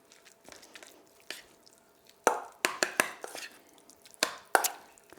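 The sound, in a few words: mushing silken tofu into gyoza filling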